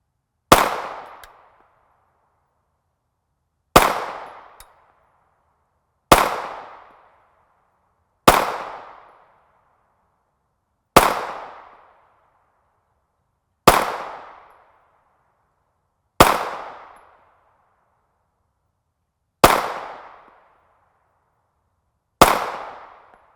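A 9mm PSA Dagger pistol, a Glock 19 clone with a threaded barrel, fires 124-grain FMJ rounds outdoors, nine sharp, loud single shots spaced a few seconds apart, each followed by a short decaying echo.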